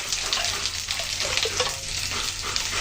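Green chillies added to papaya frying in a pan, a loud, continuous close sizzle with light stirring scrapes throughout.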